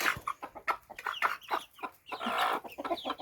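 Several roosters and hens clucking close by in quick, irregular bursts, overlapping squawky calls with no talking.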